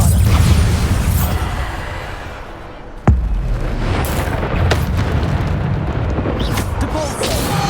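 A Bombarda spell explosion in Hogwarts Legacy lands as a single sharp, heavy boom about halfway through. Dense, loud game combat noise runs throughout, before and after the blast.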